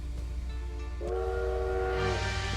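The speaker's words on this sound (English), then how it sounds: "Time to catch the train." Train in the video game Bloodstained: Ritual of the Night, heard as a rumbling rail-car bed that swells into a sustained whistle-like horn tone about halfway through, loud and alone without talk.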